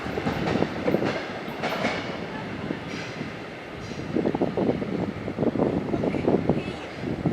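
Locomotive 90225 shoving a train from behind, a steady rumble of rail cars with wheel clatter and occasional faint squeal, moderately near and continuous throughout.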